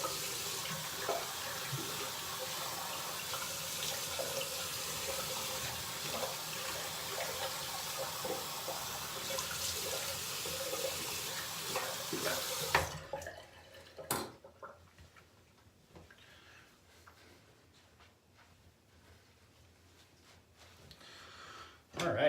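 A bathroom tap runs steadily while a razor is rinsed during a shave, a continuous close water hiss for about thirteen seconds that cuts off abruptly, followed by faint clicks and handling sounds.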